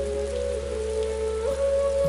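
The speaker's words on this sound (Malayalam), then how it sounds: "നല്ല മഴ അല്ലേ?" Heavy rain pours steadily during a windy storm, a dense, even hiss that runs unbroken throughout, with a low sustained hum beneath it and no voices.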